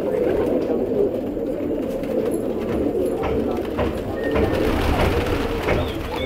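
Desi pigeons cooing in a flock, low soft throaty coos repeating steadily and close by, with faint background noise and no clear speech.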